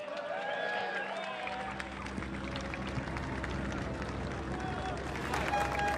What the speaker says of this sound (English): a big round of applause for the Sauber F1 team